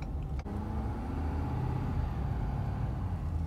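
A Ford F-250 Tremor diesel pickup under way, its engine a smooth low drone blended with road noise inside the cab, with one brief click near the start and otherwise steady, fairly quiet sound.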